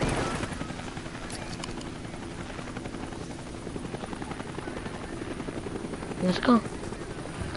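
A helicopter in the snowboarding and skiing video game Steep drones steadily with a rapid rotor chop throughout, under a player's voice speaking briefly near the end.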